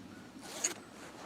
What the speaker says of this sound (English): Now, see if we can zip it back up